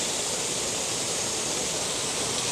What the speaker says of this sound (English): there's a lot of running water through the park